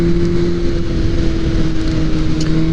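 A motorcycle engine drones steadily while downshifting, a loud close-up hum with a strong steady tone and wind rush over the microphone, no voices.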